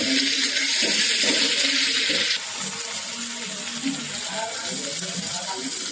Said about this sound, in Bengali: এখানে আমি চিংড়ি মাছগুলি ভালো করে কেটে হলুদ লবণ দিয়ে ভালো করে ভেজে নিচ্ছি